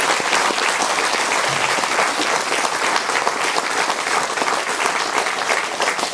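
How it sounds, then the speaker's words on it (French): Sustained applause from an audience at a ceremony honouring a colonel's 41-year service career, steady and dense throughout without pause. "Ça, ça vaut quand même quelques applaudissements."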